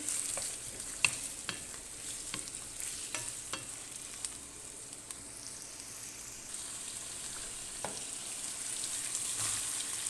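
Chicken liver fries in a pan for a spiced liver bhuna, a soft continuous sizzle with scattered sharp clicks and light spatters early on, faint and close, with no speech.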